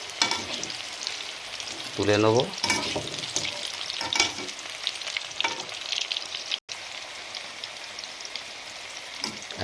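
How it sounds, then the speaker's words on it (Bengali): Pieces of boiled elephant foot yam fry in hot oil in a wok, crackling and sizzling steadily up close with occasional stirring scrapes, and a voice speaks briefly over it. "তারপরে কড়ায় তেল দিয়েছি। তেল দেওয়ার পরে ওলটা এবার ভেজে নেব।"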